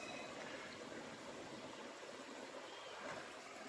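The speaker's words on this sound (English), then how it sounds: "It's good to see water in the creek." Creek water flowing steadily along a hiking trail, a continuous soft broadband rush with a gentle trickle, fairly faint and uninterrupted, with no voices.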